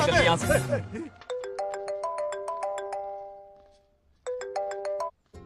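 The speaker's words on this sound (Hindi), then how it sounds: "आपको किसी का फोन आ रहा है।" A brief voice is followed by a mobile phone ringtone playing a repeating melodic pattern, pausing, then starting again clearly and close.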